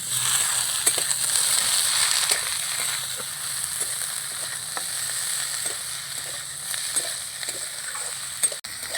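Teasel gourd curry sizzles in a pan as chopped coriander leaves are stirred in, a continuous close hiss punctuated by regular light spoon scrapes.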